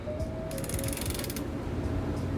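Tightening the chain on a 1998 GT Performer BMX bike, heard as a brief close mechanical ratcheting with a quick burst of rapid clicks in the middle.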